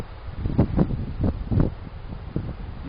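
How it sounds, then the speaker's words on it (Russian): Wind blows at Kozhim in Komi, a low, buffeting rush against the microphone with several soft gusting surges over a few seconds. "И ветер задул."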